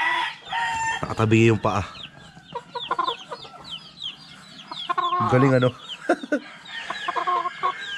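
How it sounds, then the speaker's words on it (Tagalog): Chickens on a farm, a rooster among them, cluck and squawk in repeated short calls, close by and fairly loud. Someone speaks briefly over them. "tignan nyo yung manok natin na to"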